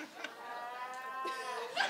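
Audience members in a theater crowd imitate cow moos with their voices, several drawn-out lowing calls overlapping close by, loud and alone without talk.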